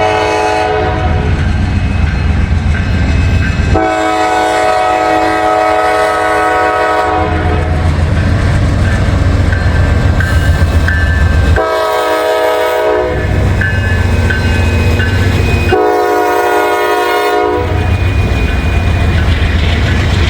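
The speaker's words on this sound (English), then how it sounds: "Norfolk Southern Mixed Manifest here." A Norfolk Southern mixed manifest freight train passes loud and close, a long continuous rumble of rolling cars with repeated sustained horn blasts sounding over it.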